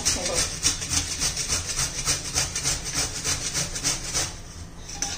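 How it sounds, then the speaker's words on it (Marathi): A bottle gourd is grated by hand in a home kitchen, giving a fast, rhythmic series of scraping strokes, close and fairly loud, that keeps an even pace throughout. "मी तुम्हाला आता किसून दाखवतेय."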